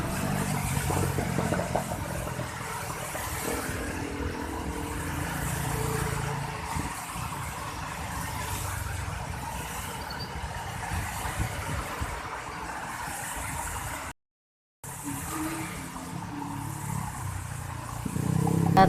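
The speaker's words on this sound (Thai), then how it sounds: "รถติดบนสะพานเคลื่อนตัวได้ช้ามากค่ะ" Slow, congested car traffic crawls across the Ratchawipha overpass on Ratchadaphisek Road in Bangkok on a rainy evening: a steady, close rumble of idling and gently accelerating engines, broken only by one brief dropout.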